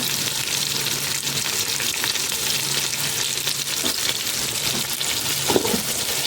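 Onions fry in a pan with a little salt, a continuous close sizzle with occasional scraping stirs against the pan.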